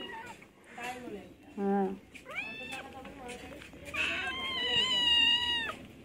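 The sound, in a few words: pet cat meowing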